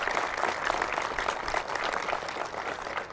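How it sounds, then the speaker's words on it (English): Applause at a 2021 ribbon-cutting ceremony for a national aviation education center, honoring a man for his service to the country; steady, dense clapping from a sizable audience fills the whole stretch without pause. "So let's give him a round of applause."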